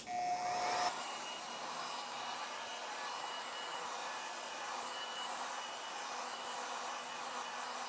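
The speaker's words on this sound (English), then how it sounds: "I'm going to hit the front of the device using my heat gun at the highest setting" A heat gun running on its highest setting blows steady hot air at the front of an iPhone 15 Pro Max during a screen repair, a continuous broadband whoosh after a brief louder start, close and alone.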